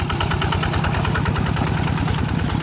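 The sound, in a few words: tractor engine running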